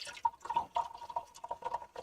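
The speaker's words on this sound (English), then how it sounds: "that noise you're hearing is me pouring out of the last bottle of generic fizzy orange" Generic fizzy orange soda pours from a bottle into a glass, a close trickling, splashing fill with bright bubbly gurgles and intermittent drips over a couple of seconds.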